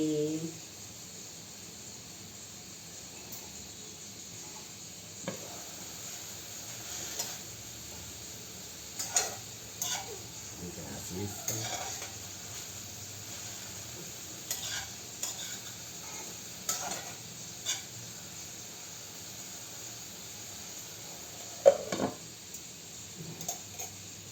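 Mint and tomato chutney cooks in a pan with a low, steady sizzle, while a spoon scrapes and stirs in scattered soft knocks, fairly faint and close, with no voice heard.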